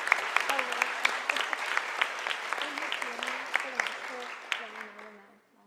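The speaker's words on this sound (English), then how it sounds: "let's give them a big round of applause" An audience at a medical school graduate studies welcome ceremony applauds standing graduate students with sustained clapping from many hands, and a voice speaks over it before the applause tapers off at the end.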